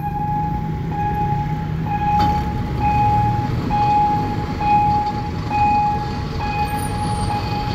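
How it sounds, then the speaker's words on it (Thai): A railway level crossing warning bell rings in a steady repeating pattern about once a second over the low rumble of a passing freight train in Thailand. "สัญญาณเครื่องกั้นดังมาอีกแล้ว"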